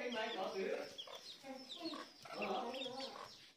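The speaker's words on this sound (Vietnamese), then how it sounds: "Đây là con chim đa đa." A Chinese francolin calls repeatedly in a highland village in spring, harsh rhythmic phrases repeating over a few seconds at moderate distance, with some background noise.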